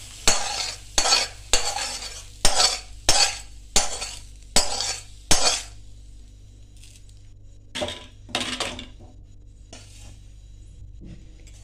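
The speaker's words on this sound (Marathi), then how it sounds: "आता हे सगळा तडका जो आहे तो त्या ताकात घालायचा" Hot tempering for kadhi is scraped from a pan into buttermilk with a metal spoon. Close, regular scraping and clinking strokes are followed by a few softer, sparser scrapes and faint sizzle.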